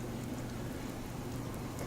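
Steady rain pours through a broken roof in a Fallout game, a dense, continuous hiss of falling water filling the whole moment without pause.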